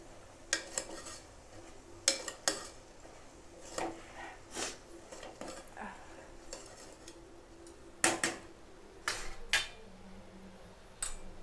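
Spoon scraping and clinking in a pan while ridge gourd masala with garam masala is stirred, sharp intermittent knocks against the metal over a quiet kitchen background.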